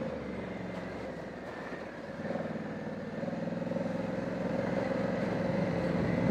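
A motorcycle engine drones continuously on a green lane, a steady rumble that swells slightly as the bike draws closer, heard alone without talk.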